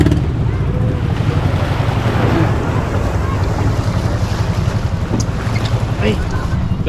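A boat's motor drones steadily close by amid heavy wind buffeting and splashing water, loud and continuous throughout, as the boat leaves Culebra.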